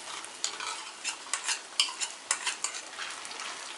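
A spoon stirs a yogurt and red food colour marinade for paneer 65, giving soft rhythmic scraping and wet clicks repeating close by, with no speech.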